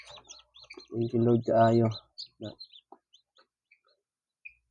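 Rhode Island Red chicks give thin high peeps and chirps, scattered and fairly close, while a person speaks in short bursts over them.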